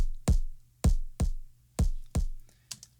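Unfiltered punch sound effects from a film sample pack hit five times in an uneven rhythm, each a hard, bright whack with a fast decay and a low thump, followed by a faint soft tap at the end, with no one speaking.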